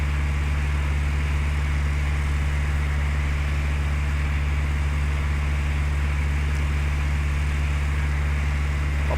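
An airplane engine in a flight simulator game drones in a steady, loud, low hum as the throttle is eased back, a constant propeller-engine tone with no noticeable change or talk.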